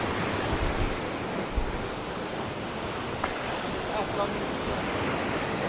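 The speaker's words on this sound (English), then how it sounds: "It's incredibly windy as well" Strong wind roars across the microphone on the coast at Camp de Mar, Mallorca, a loud continuous gusty rush blended with breaking surf throughout, with no clear talk.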